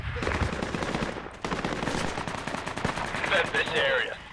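Video game gunfire with a sniper shot: rapid bursts of rifle and machine-gun fire crackle close and loud, overlapping with players talking.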